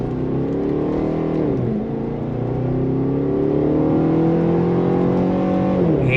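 A 2017 Chevrolet SS V8 sedan accelerating through its gears with paddle shifts, a loud, close, continuous engine roar whose pitch climbs, dips briefly at a shift, then rises again, with no talk over it.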